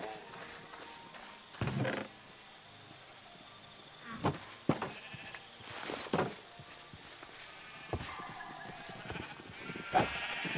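Sheep bleat several times among Minecraft sound effects, with scattered thuds and shuffling noises between the calls as the sheep are hit.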